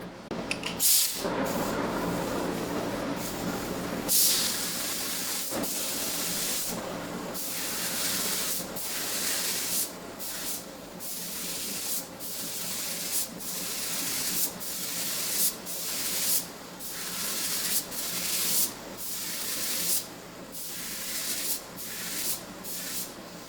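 A spray gun lays a medium wet coat of automotive clear onto a motorcycle engine at home, giving a steady broadband hiss in repeated bursts, close and loud, each pass ending in a short gap.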